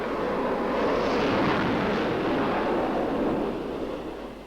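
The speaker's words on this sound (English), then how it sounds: "Stand clear of jet intakes and jet exhaust." A jet aircraft roars on the flight deck of the aircraft carrier Enterprise in 1966, a loud, steady broadband blast that holds for several seconds before slowly tapering off.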